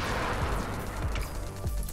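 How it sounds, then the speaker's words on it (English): Explosions burst in the shooter video game NIMRODS, with dull booms and crackling debris rolling one after another in a loud continuous roar. "just one shot and everything explodes on the screen"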